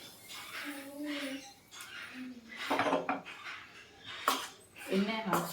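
Spoon mixing food in a pot or bowl while cooking Ganesh Chaturthi recipes, with irregular metallic scrapes and clinks, moderately close, interspersed with someone talking.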